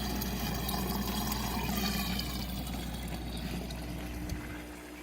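Water pours steadily from the overflow of a gravel-bed aquaponic system, a constant soft splashing trickle with a low hum beneath, unbroken and fairly quiet throughout.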